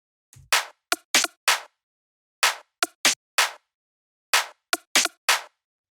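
Minimal tech house percussion group plays alone: short, dry, snappy hits in syncopated clusters separated by brief gaps, punchy and close.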